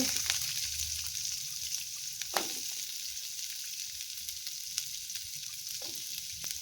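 Chopped onion drops into a little hot oil already holding mustard and cumin seeds, sizzling softly and steadily with a few sharp crackles and pops. No one speaks.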